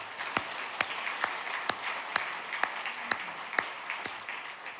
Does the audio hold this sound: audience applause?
yes